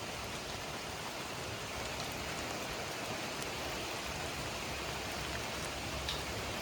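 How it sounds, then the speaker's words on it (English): Heavy, fast rain pours down outdoors during a downpour, a steady broadband hiss with faint scattered drips, continuous and even throughout. "It is raining quite fast outside."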